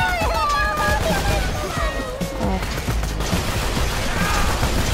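Pistol gunfire in Borderlands 2, a burst of quick shots early on with game effects and background music continuing over a dense, loud mix.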